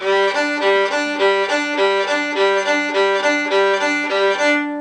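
A violin crosses back and forth between two strings with steady, even bow strokes, a clear repeating alternation played loud and close.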